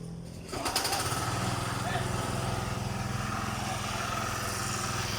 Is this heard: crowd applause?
no